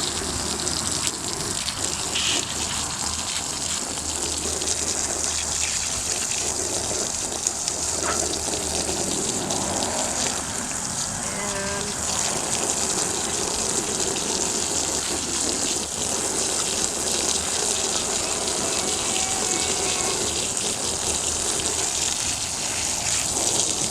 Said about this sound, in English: So I'm going to rinse all the gunk off first.